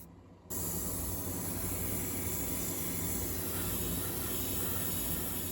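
An airbrush sprays paint onto a model car kit, a steady close hiss of air that starts abruptly after a brief quiet moment and then holds constant and unbroken with no talking.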